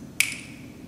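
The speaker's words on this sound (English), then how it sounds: "As I snap my fingers, imagine the earth disappears from beneath us" A single sharp finger snap by a preacher during a Sunday service, crisp and close, ringing briefly in a quiet room.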